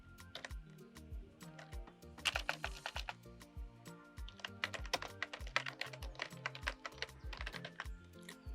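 Irregular clicking of fingers typing on a computer keyboard, close and fairly quiet, in quick bursts with brief pauses, no voices.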